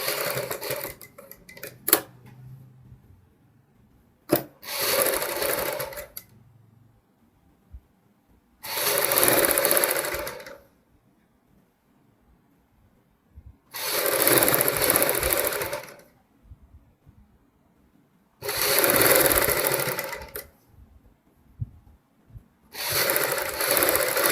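A sewing machine stitches piping onto a kurti front neckline in repeated bursts of fast, close mechanical whirring lasting a couple of seconds each, separated by quiet pauses and faint handling clicks.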